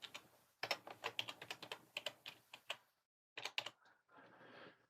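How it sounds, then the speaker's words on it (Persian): Rapid typing on a computer keyboard, a burst of quick clacking keystrokes, a short pause, then a few more presses and a softer rustle, close and fairly quiet with no talking. "تو سرچ ویندوزمون تایپ میکنیم سرویسز"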